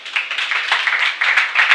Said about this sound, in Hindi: आप लोग अपने लिए एक बार बहुत ज़ोरदार तालियां बजाइए।